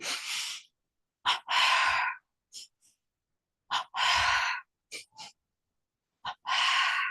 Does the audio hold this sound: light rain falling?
no